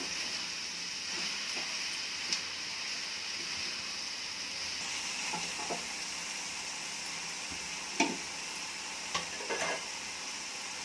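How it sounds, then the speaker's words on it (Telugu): Vegetables and masala for saagu sizzle steadily in a pan as they are stirred, a faint continuous frying hiss broken by a few soft scraping clicks of the spoon. "కాయగూరలు మసాలా అంతా పచ్చివాసన పోయే వరకు కలుపుతూ వేయించుకోవాలి మసాలాని"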